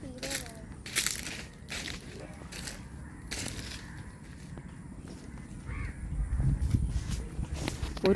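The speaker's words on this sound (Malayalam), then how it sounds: "പക്ഷികൾ" Crows caw several times in short, separate bursts over steady outdoor background noise near a green farm field and a fish pond.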